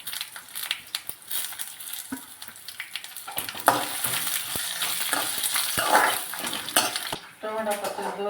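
Dried red chillies, urad dal, fenugreek and cumin frying in hot oil for tomato chutney. Close sizzling runs under repeated scrapes and stirring clinks of a spoon against the pan.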